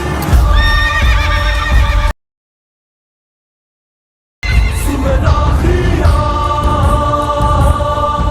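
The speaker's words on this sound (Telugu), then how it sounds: "చరణ్ కొన్నట్టు గుర్రం." A horse neighs loudly and up close over the clatter of its hooves, with a sudden two-second silence midway before the whinnying and hoofbeats resume.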